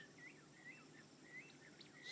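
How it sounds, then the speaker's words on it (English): A grey-backed camaroptera gives repeated short whistled and buzzy calls in uneven bursts, moderately near, against a faint steady insect drone. "Greyback Cameroptera, of course."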